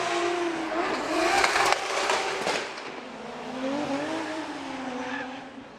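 Adam LZ's Drift HQ BMW drift car screams through a transition at a Formula Drift Long Beach seeding run, with a revving engine, sustained tire squeal and crowd noise at a distance.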